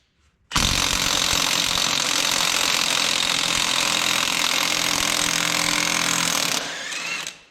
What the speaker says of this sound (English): We'll see if the impact will take it off now.